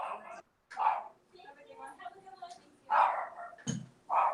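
A dog barks several times at close range in short, sharp bursts spaced irregularly, with yips and a whimper among them, while a person talks in between.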